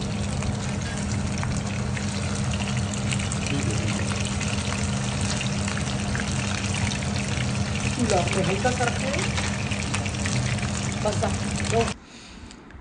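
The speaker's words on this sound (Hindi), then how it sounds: "अब आप इसको मीडियम फ्लेम पे इस तरह फ्राई पैन में करना शुरू कर दें फ्राई करें इसको" Sheesh kebabs fry in a pan over a medium flame, giving a steady, close hiss and sizzle with a voice briefly heard beneath it, before the sound drops off at the end.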